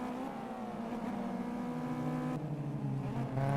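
Race car engines from a NASCAR-style sim racing game roar continuously at high revs, pitch shifting through gear changes as the car descends downhill, steady and loud with no speech.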